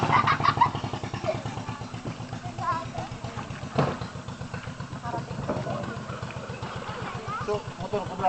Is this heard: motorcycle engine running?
yes